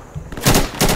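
Gunfire in the video game Insurgency, two quick loud bursts of shots close together after a brief quiet moment.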